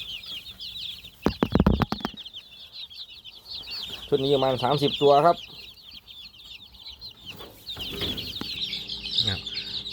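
Many native Thai chicken chicks peep and cheep continuously in high, rapid chirps close by, while someone talks over them in short bursts.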